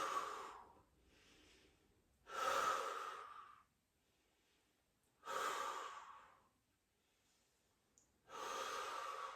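Heavy breathing during a forearm plank in an upper-body hybrid workout: four loud, forceful exhales in slow rhythm, spaced about three seconds apart, with quieter breaths between and no talk.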